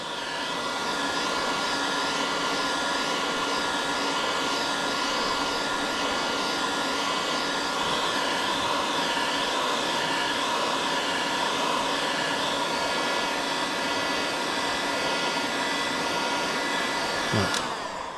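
A heat gun blows hot air over a soft plastic lure mould with a steady, loud, continuous whooshing hum for the whole stretch, ending with a brief click near the end.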